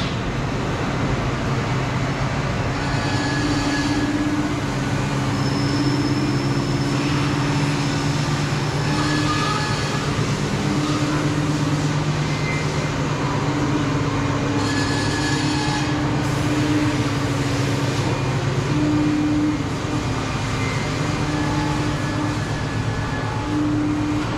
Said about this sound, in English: Looks like this machine was cutting the gear system.